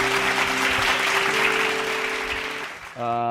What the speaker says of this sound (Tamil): நல்லா கைத்தட்டுங்க ஒரு ராமன்.